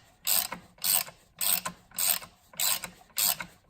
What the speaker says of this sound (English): I'm gonna unscrew this bolt